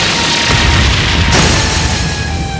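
The Prionac weapon fires and explodes in the video game Trails of Cold Steel III, a loud sustained boom with a roaring burst that shifts midway and slowly tails off.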